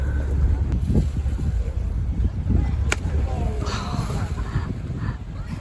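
Strong wind blowing by the sea on a Turkish coast near Kaş, a constant low buffeting rush on the microphone with water sounds beneath and occasional faint voices.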